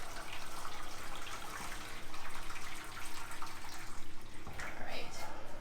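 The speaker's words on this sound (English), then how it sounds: "So about a whole kettle of boiling water, right into the bottom." A whole kettle of boiling water pours into the bottom of a hot roasting pan for a roast chicken, a steady broadband splashing rush under some faint background talk.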